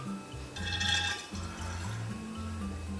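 Blackberry and apple hard cider running through an auto siphon and bottling wand into a bottle, a continuous low gurgling fill with a brief splashy rush near the start.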